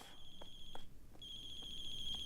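A phone ringing in a video game, a steady high electronic ring tone that cuts out briefly and resumes, near and clear.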